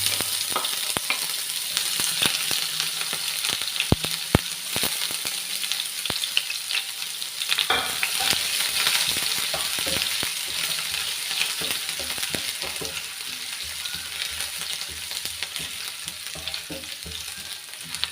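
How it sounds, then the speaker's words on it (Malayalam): Mustard seeds crackle and pop sharply in hot oil, a dense irregular spluttering over a steady sizzle, close and loud. "അപ്പോൾ കടുകൊക്കെ ഏകദേശം പൊട്ടിക്കഴിഞ്ഞു"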